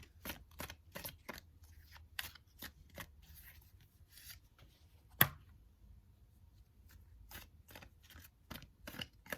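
Tarot cards being shuffled by hand: a run of quick, crisp riffling bursts in a steady rhythm, close and fairly quiet, with one sharper snap midway and no talking.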